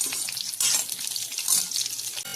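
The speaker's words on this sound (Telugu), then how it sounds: "మునక్కాయలు ఇలా ఫ్రై చేసుకుంటే కొంచెం ఫ్రై అయ్యి టేస్ట్ ఉంటాయండి" Moringa drumstick pieces fry in a pan with a bright, crackling sizzle that rises and falls in uneven bursts, close by and alone, with brief louder spatters throughout.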